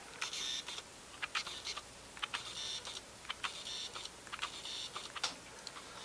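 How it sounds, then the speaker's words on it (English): Rokinon 50mm F1.4 autofocus lens motor gives short, faint whirring and ticking bursts, about a dozen quick focus movements in irregular succession, close up against a quiet background. "the autofocus motor is quite loud."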